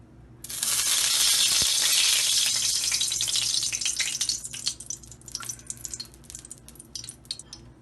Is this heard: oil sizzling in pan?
yes